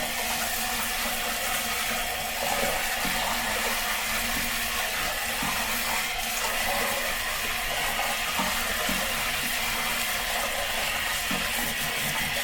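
A shower head sprays a steady, dense stream of water to rinse mud out of a toilet cistern, a constant hissing rush with no pauses and no speech.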